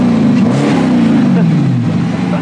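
Dodge Challenger V8 engine revving loudly up close, a deep throaty roar that rises and sags over a couple of seconds, with voices talking over it.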